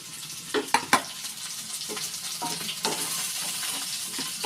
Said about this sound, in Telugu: దాంట్లోనే మనం ఈ దొండకాయ ముక్కలు వేసేసేయాలన్నమాట